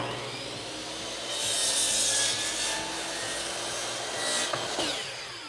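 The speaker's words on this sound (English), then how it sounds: "very carefully lift the workpiece into the spinning blade just to trim off that last little bit" A spinning miter saw blade trims the last bit off a wide wood workpiece, a steady loud whirring grind that swells as the blade bites and then tapers, heard alone.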